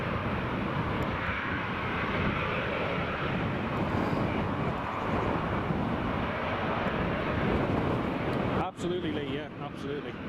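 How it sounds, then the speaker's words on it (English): Jet2 and Ryanair airliners taxi at Newcastle Airport, their engines giving a steady, broad roar from a short distance that lasts throughout, with a brief dip near the end. "Jet 2 is just taxiing in there. Ryanair is taxiing just to our left."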